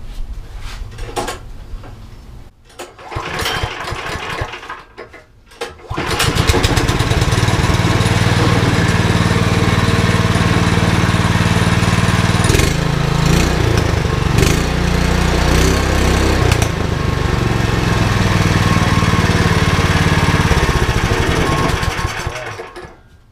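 A small 9HP go-kart engine sputters, then starts and idles loudly with a steady putter, revving slightly before settling and cutting off.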